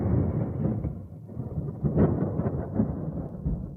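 A thunderstorm rumbles outside, deep rolling thunder with a low, continuous roar and swelling peaks, steady and fairly loud with no speech.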